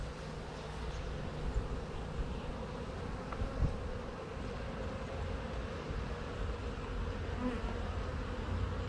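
A steady, dense buzz of many honey bees swarming close by at their hive, continuous and even throughout.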